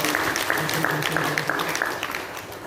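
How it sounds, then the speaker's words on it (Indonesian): Audience applause at a cooperative meeting, steady clapping mixed with voices and background music. "Berikan tepuk tangan untuk beliau"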